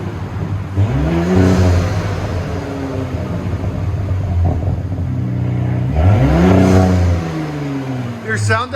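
A 2019 Audi SQ5 with a 3.0L V6, dual exhaust and rear muffler delete revs up twice, the engine note rising and falling over a steady idle drone, close and loud with voices talking alongside.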